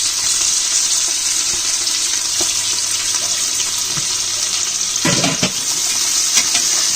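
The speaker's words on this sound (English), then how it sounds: "Saute it until it caramelizes" Onions sautéing in hot oil, a loud, steady hiss and crackle with a few brief stirring scrapes near the end, close and continuous with no talking.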